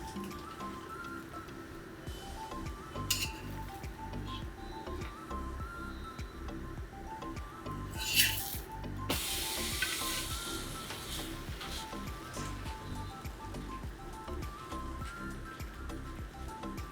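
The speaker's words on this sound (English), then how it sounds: "And most important, toast it with butter." Kulcha bread toasts in butter in a hot pan, giving a steady sizzle and light crackle with a few brighter pops, under a tonal musical background.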